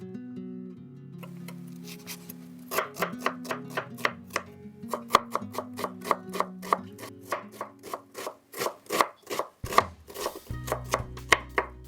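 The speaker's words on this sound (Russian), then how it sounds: "Лук также режу средними кусочками." Onion being cut into medium pieces with a knife on a board, a run of crisp, quick chopping taps that start sparse and grow into a steady, close rhythm, with no talk.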